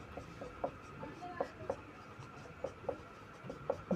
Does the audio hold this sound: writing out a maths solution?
yes